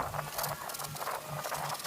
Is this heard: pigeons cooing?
no